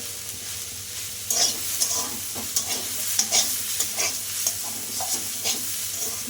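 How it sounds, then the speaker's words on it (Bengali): Water spinach with turmeric fries in a pan, a soft sizzle holding under repeated scraping stirs of the spatula that come every half second or so, close and moderately loud. "হলুদটা দিয়ে আমি ভালো করে নেড়ে নিচ্ছি"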